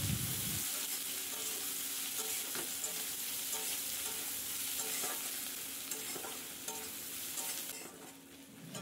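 Sliced onions fry and sizzle in hot oil with cinnamon and cumin for a Bengali jackfruit-and-prawn curry, stirred steadily with a scraping, clattering rhythm over a continuous close, loud crackle, with no talking.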